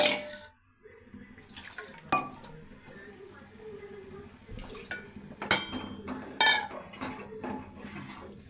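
Water splashes into a cooking pot of spicy flattened-rice pongal in a home kitchen, with metal pot and utensil clinks, a few clattering knocks, and a voice talking quietly in between.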